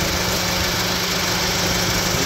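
2006 Honda Civic engine bay with the AC fan running, a steady close whir and broadband rush over the low hum of the idling engine, continuous and even, with no talking.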